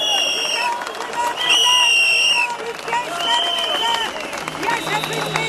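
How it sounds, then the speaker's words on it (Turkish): An audience at a public gathering in Trabzon applauds enthusiastically, with dense, sustained clapping and crowd cheers filling several seconds, loud and close, while whistles and voices ring out above it. "Coşkuyla kendisini alkışlıyoruz."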